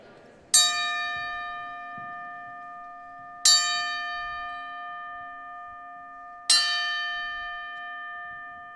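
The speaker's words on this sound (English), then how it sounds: "If you would please join me in a moment of silence and a 3-bell count in his memory for Eric Rydell." Three slow, evenly spaced strikes of a bell ring out at a cage fighting event, each clear metallic tone sustaining and fading before the next.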